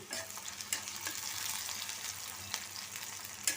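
Onion and garlic fry in hot oil in a pan, a steady, close, hissing sizzle with occasional clicks of stirring and no voices over it.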